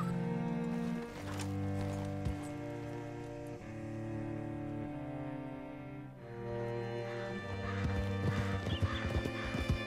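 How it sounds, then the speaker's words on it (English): In the video game Red Dead Redemption 2, hooves clip-clop steadily at a gallop over a continuous musical score, with a horse's whinny breaking through near the start. "Sadie's horse is absolutely wild, man"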